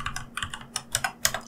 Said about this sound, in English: press Enter on your keyboard